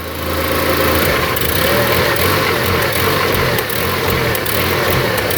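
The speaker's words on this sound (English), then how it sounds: "Those were wide open throttle snaps right there." A Honda Accord engine with reversed TPS and MAP connectors, suffering a no-power fault, revved with repeated wide-open-throttle snaps; a loud, rough, continuous engine roar with slight surges, close by and without talk.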